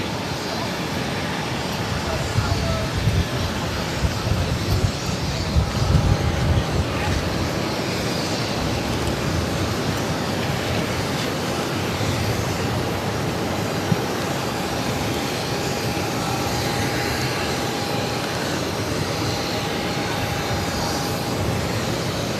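An Airbus A321neo airliner at Boston Logan, a distant, steady, wind-like engine rush that stays even and moderate throughout, with no talk over it.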